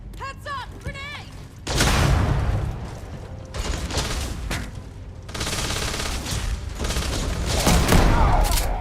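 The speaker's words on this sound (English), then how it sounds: "Heads up! Grenade!" Loud bursts of gunfire and explosions in the sci-fi video game Starfield, including a grenade blast, crash in close and repeatedly with continuous combat noise, alongside brief clipped voice chatter at the start.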